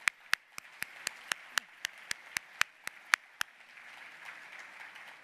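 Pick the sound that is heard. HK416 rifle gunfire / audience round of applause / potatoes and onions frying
audience round of applause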